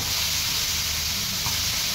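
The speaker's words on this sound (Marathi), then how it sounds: "तर मिठाचं पाणी असं भुरभुरूया" Salt water sprinkled over a hot tawa, producing a continuous loud hiss of steam and sizzle for a couple of seconds, with nobody speaking.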